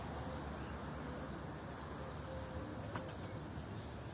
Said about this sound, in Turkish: Bak abi oradan kuş kaldırıyorlar